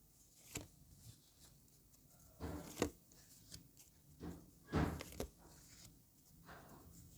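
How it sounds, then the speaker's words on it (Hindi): Tarot cards get a final shuffle in quiet, close, soft riffling bursts that come in irregular clusters and leave little else audible. "final shuffle"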